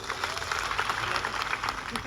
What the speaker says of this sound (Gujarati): એકવાર જોરદાર આપણે તાળીઓ પાડી લઈશું